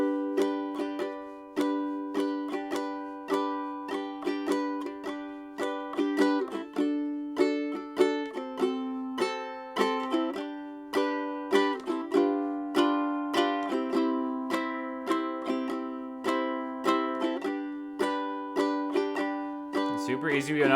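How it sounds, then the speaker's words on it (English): Silent Night played on ukulele using simple chords, each note and strum plucked cleanly in an even, slow waltz-like rhythm, close and moderately loud, alone for about twenty seconds. "Silent Night sounds like this."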